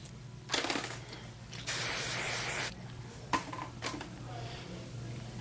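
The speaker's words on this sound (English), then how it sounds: "I'm doing the spray on the inside of my curling iron" Hairspray sprayed onto a curling iron during salon hair styling, heard as several quiet bursts of hissing spray of varying length, separated by soft handling noises.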